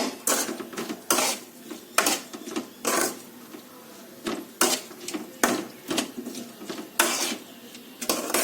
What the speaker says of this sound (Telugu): పసుపు కొంచెం వేసుకొని ఇట్లా మళ్ళీ ఒకసారి కలుపుకోవాలి